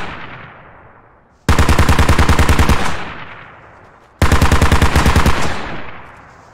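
BTR armored vehicle machine gun in Squad firing two long, loud, close bursts of rapid evenly spaced shots, each followed by a fading echoing tail.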